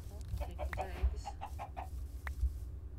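Minecraft chickens on a chicken farm give several short, soft clucks at irregular intervals over a low background hum, with no speech.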